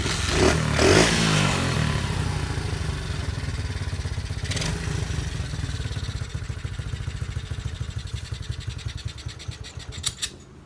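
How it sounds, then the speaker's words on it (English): A dirt bike engine idles high and steady, a loud, continuous rattling putter with slight fluctuations, close by and running on its own. "right now, it's idling pretty high"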